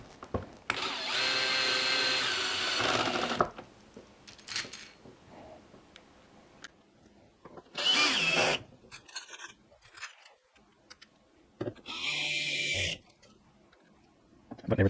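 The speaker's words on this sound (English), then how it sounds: "Turn my drill down to a low setting." A cordless power drill on a low setting drives bolts back in while a LED luggage rack is refitted on a 2021–2023 Honda Gold Wing: three close, whirring bursts of a few seconds each, separated by quiet handling noises.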